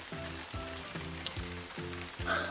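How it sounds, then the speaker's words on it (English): Raindrops patter down as a sound effect in a children's read-aloud story: soft, steady rain noise with a regular pulsing pattern throughout. No speech. "Raindrops start to patter down."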